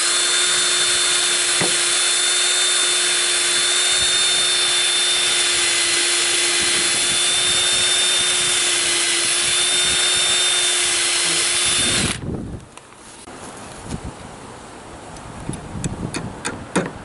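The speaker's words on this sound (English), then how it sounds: "now we just drill our hole" A power drill bores a hole into a wooden chair leg during a repair, a loud steady whine for about twelve seconds that stops abruptly, followed by quieter clicks and handling noises.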